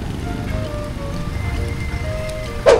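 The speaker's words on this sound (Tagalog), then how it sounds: "Lakas ng ulan dito." Heavy rain pours down outdoors near a plaza as a steady, dense wash of drumming on surfaces, continuous and fairly loud throughout, with a brief sharper splash at the end.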